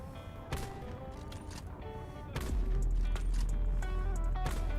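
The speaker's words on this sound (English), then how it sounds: "let's see if we can shoot it down with the Paladin" In Black Ops 4, a Paladin sniper rifle fires several sharp, spaced shots at a gunship over heavy battle noise. A low rumble swells partway through, and other distant gunfire keeps going in the background.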